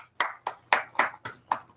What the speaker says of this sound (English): she's clapping her hands